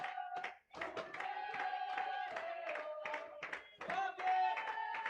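Guarani supporters at a youth under-11/under-12 football match against Independente de Limeira chant and clap in rhythmic bursts, a steady, fairly distant crowd sound with brief pauses.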